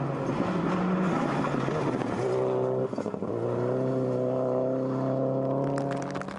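A rally car on the 2008 Rocky Mountain Rally stage slows hard on the gearbox, its engine note dropping and rising through downshifts, followed by a steady, harmonic drone as it holds speed, heard from nearby.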